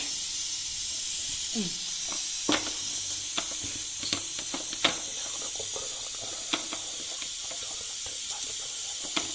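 A pressure cooker on a stove, heat just turned off, releasing steam in a steady, soft hiss punctuated by scattered faint clicks and ticks, with no voices.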